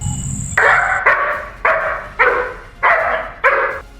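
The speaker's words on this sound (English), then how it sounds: "The dog just keeps on barking, making sure the intruders know they're not welcome." A guard dog barks at intruders, six loud, close barks in a steady rhythm about half a second apart, with a brief high tone at the start.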